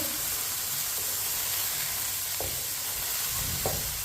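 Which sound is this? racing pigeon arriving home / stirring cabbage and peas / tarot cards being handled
stirring cabbage and peas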